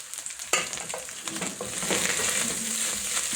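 Chopped onions hit a hot pan for minced beef stew with a sudden sizzle, then frying hiss swells and holds steady while a utensil scrapes and stirs, close with no talk.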